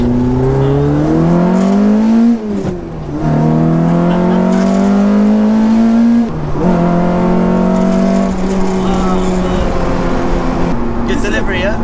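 A loud Peugeot 205 GTI engine, tuned to 220 bhp, revs up through the gears, pitch climbing then dropping at each shift, with brief voices mixed in.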